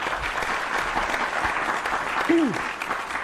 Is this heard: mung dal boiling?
no